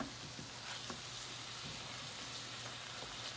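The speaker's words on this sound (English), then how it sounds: "we're just going to cook this till we get the meat so that it's not red any longer" Meat fries in a pan with a soft, continuous sizzle and occasional light pops and stirring clicks, heard close but faint with no talking.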